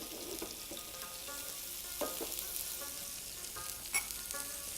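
Food sautéing in a pan with salt and pepper, a steady soft sizzle and frying hiss with occasional brief clinks and stirring sounds, no voices.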